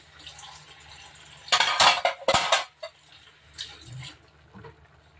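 A metal pot lid clanks and scrapes onto a cooking pot of pinakbet in a brief cluster of sharp knocks, followed by a few fainter taps.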